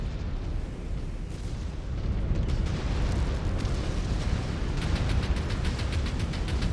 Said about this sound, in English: Exposed reactor. Explosion imminent.